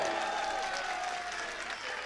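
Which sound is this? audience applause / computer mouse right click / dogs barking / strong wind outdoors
audience applause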